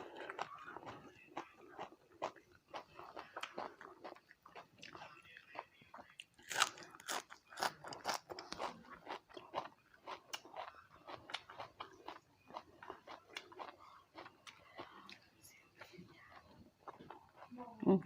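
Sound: person chewing food while eating

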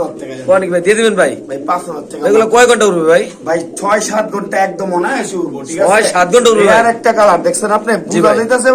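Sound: Pakistani pigeons cooing

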